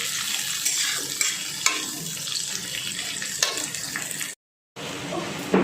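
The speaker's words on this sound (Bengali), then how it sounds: "হালকা ভাজা ভাজা করে নিচ্ছি" Chopped onions fry in a pan with a steady, dense sizzle and occasional stirring clicks, close and fairly loud, broken by a brief silent gap near the end; no talking.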